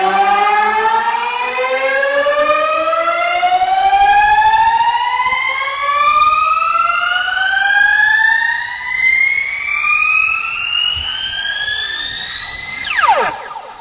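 A synth riser built with pitch automation in FL Studio climbs steadily for about thirteen seconds as a bright, harmonic-rich sweep, then drops sharply and briefly at the end, loud and alone.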